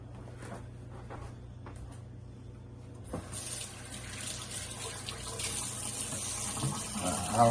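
Water runs steadily from a kitchen tap as hands are washed after handling rotisserie chicken meat, the flow starting partway through and growing louder and closer toward the end.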